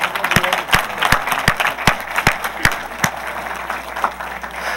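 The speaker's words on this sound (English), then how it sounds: "let's give them a round of applause" Church congregation clapping during a service, a brief round of applause with distinct, fairly regular claps close by and a soft crowd wash behind.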